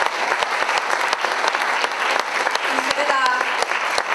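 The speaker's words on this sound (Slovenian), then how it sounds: "Torej, en lep aplavz za Dragico Potočnjak, Tomaža Bubenška in Toneta Partliča." A theatre audience at a festival awards ceremony claps for the jury, steady dense applause filling the hall throughout while a voice speaks briefly over it near the end.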